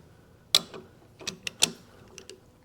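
Bolts being snugged on a lathe setup for boring and threading a hub: a few sharp metallic clicks and ratchet-like ticks spaced irregularly over a quiet background, close and fairly crisp.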